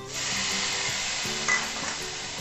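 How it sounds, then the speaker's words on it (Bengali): Potatoes and capsicum fry in a pan with a steady, close sizzle that runs throughout, broken by the soft scrape of stirring and no voices. "আলু ক্যাপসিকাম খুব সুন্দর ভাজা হয়ে গেছে।"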